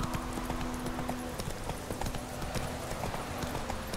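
A horse ridden in The Witcher 3 video game trots with brisk, steady clip-clop hoofbeats, close and continuous over a low ambient bed.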